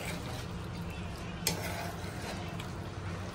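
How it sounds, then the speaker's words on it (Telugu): Gongura being stirred into chicken curry in a pan: a steady sizzling hiss with soft scraping of a spoon and one brief clink, close and continuous, no talk. "ఇదిగోండి గోంగూర వేసేసుకున్న తర్వాత చక్కగా ఇది మొత్తం కలిసేలాగా కలుపుదాము"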